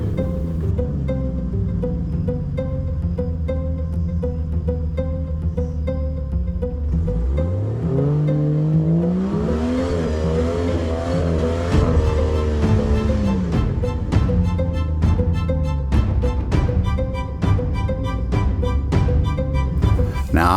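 A Jeep on Patagonia tires revs hard while spinning on slick clay, the engine surging and climbing in pitch mid-way, loud and close over an ongoing rumble with sharp mechanical knocks later on.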